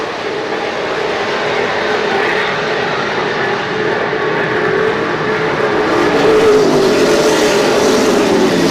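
Race cars run on the track at Desoto Speedway, a steady, loud engine roar from several cars in single file that swells and shifts as they pass.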